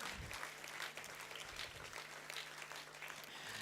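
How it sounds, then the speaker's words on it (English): A convocation audience claps continuously as a graduate walks on stage, with a dense, even wash of applause, faint and distant, with a low hum beneath it. "we need you to fill this space with your applause."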